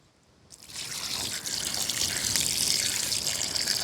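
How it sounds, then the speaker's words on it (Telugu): A small amount of water is poured into a pot of black Kadaknath chicken curry, starting after a brief quiet moment as a close, steady trickling splash that continues to the end. "కొద్దిగా నీళ్ళు పోసుకుందాం"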